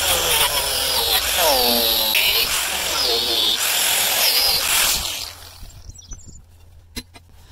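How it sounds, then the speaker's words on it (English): Angle grinder cutting into rubber, a loud steady whine for about five seconds with some speech over it, then cutting off to quiet with scattered small knocks and handling sounds. "I've never cut rubber with a grinder."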